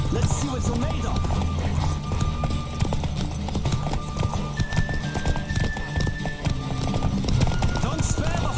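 A horse galloping in The Witcher 3, rapid clip-clop hoofbeats running steadily throughout under game music, with a voice speaking over the ride.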